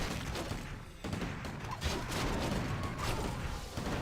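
Massed rifle gunfire rattles in Warcraft III during a Swedish Championship match, a dense, continuous battle din of overlapping shots and impacts with no voices.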